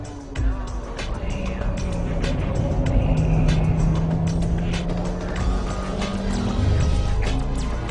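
A Honda Civic EK9 Type R with a B16B engine runs at full throttle, a steady droning engine note under cabin noise and mechanical rattles, with the pitch climbing slowly. A voice talks faintly over it.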